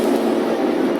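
A train rumbles past at close range in a railway crossing safety announcement, a loud, steady roar with faint rattling wheels and no pause.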